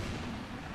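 Grenade blast in the video game Destiny 2: a dense, loud roar of explosive rumble that fills the whole short moment with no clear start or decay.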